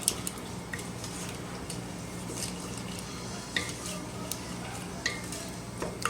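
A spoon stirs pumpkin oatmeal bar batter, made with coconut sugar, in a bowl, giving soft, continuous scraping with scattered light clinks against the sides, fairly quiet and with no talking.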